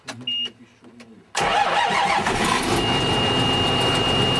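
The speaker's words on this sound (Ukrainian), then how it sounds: "Запустити двигун потрібно повернути ключ замка запалювання." A brief voice is followed by a tractor engine cranking on the ignition key and catching, then running steadily and loudly at idle.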